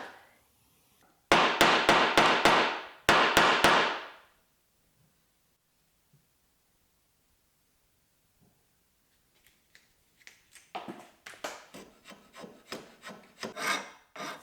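A wooden knife handle being shaped by hand, with two bursts of fast, loud rasping strokes near the start, a long quiet gap, then a run of rhythmic scraping strokes that builds toward the end.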